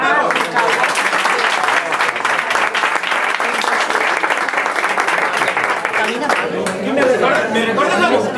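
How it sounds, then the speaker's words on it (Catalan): Audience applause fills a comedy show, a dense steady clapping from a crowd that carries on loudly throughout, with some chatter mixed in. "Un aplaudiment per a Paco!"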